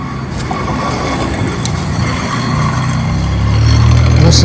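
A worn-out old clunker car, a cheap Walmart runabout, rumbles and strains as it pulls away from a gate, its engine note growing louder and lower toward the end; voices murmur faintly.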